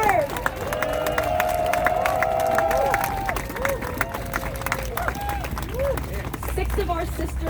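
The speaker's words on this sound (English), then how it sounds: "give yourselves a round of applause for just being here and just existing" An outdoor crowd at a peace vigil in Union Square, New York, claps and cheers, with whoops and shouted voices rising over a steady bed of applause that thins toward the end.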